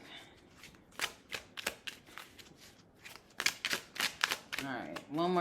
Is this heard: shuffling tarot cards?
yes